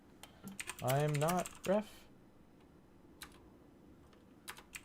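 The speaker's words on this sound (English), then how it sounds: "They can't even see what I'm typing" Scattered, fairly faint keystrokes on a computer keyboard click in short bursts during a collegiate esports match, following a brief spoken remark.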